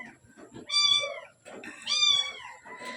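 Stray cats meow in two clear, drawn-out calls close by, with faint background sounds in between.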